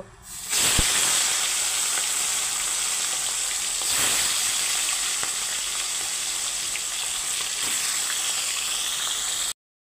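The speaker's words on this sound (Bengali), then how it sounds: "এখন ওই আলু ভাজার তেলে এই চিকেনগুলো আমি ভেজে নেব।" Chicken pieces fry in oil left over from frying potatoes, starting with a sudden loud sizzle after a short quiet moment. A dense, close crackling hiss then continues steadily until it cuts off abruptly.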